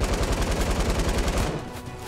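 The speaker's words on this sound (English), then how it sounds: "We just need to keep shooting." Rapid automatic gunfire from the Fortnite video game, a loud close burst of dense repeated shots that cuts off partway, leaving a duller rumble.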